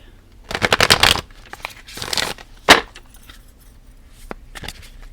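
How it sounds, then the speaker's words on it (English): A Kim Krans animal tarot deck is shuffled by hand in several crisp riffling bursts, close and clear. The bursts are separated by short pauses and followed by a few lighter card taps. "One more shuffle, and then we're going to pull a card."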